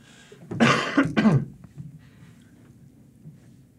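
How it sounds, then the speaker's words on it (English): Two harsh coughs close to the microphone, back to back, followed by quiet breathing and faint room noise. "I have to cough again."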